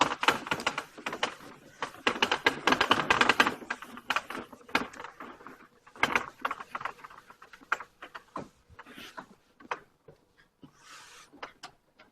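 A blackboard is erased during a lecture: dense rapid scrubbing and tapping strokes, loudest early and thinning into scattered rubs and knocks toward the end, with no voices.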